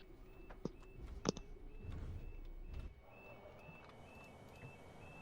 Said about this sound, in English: There's a level crossing alarm as you come out of Daventry.